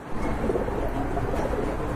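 Large homer pigeons coo softly at a bird market, a continuous low murmuring close by with a faint, busy background.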